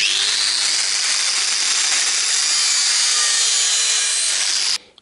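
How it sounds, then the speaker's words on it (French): Cardboard is cut steadily and continuously for a template, a close, loud, even rasp that stops abruptly near the end, with no talking. "Donc là, je fais un gabarit en carton. Allez, traçage, découpage."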